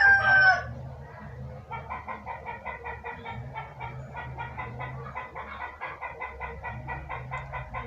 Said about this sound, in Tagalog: saba kang manok nanguwag